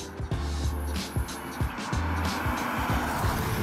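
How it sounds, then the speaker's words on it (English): A 2022 Vauxhall Astra hybrid drives in sport mode as its electric motor cuts in, with a low humming drone that rises and falls in steps over steady road and cabin noise, heard from inside the car. "wow, you can hear the motor kicking in there with the hybrid system"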